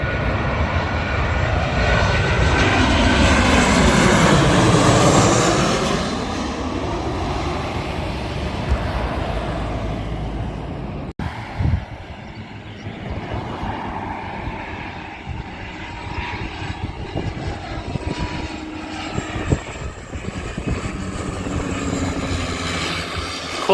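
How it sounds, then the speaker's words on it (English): A Ryanair Boeing 737 comes in to land at Edinburgh Airport with a loud, sustained engine roar that swells and sweeps in pitch as the jet passes close overhead, then fades to a steady rumble with no talk. "it's a Boeing 737 or 737 Lufthansa coming into land at Edinburgh International Airport"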